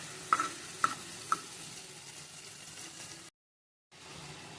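Tomatoes tip into a hot frying pan for cucumber curry, setting off a steady sizzle with three light clinks of a spoon against the pan, then a short break before the frying resumes.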